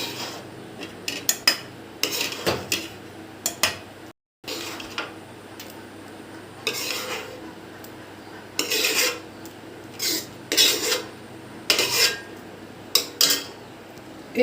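A spoon scrapes cooked mango jelly out of a pan into another bowl, giving repeated short rasping scrapes and clinks of metal on cookware, close and fairly loud, with a brief silent gap partway through.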